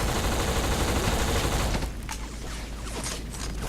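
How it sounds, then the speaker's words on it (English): Dense, loud bursts of video game gunfire and explosions from the game Black roar continuously, then thin out into scattered rapid shots and crackling booms. "Let's just start some explosions."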